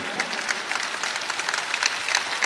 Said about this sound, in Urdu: پورا پنڈال تالیاں بجا دے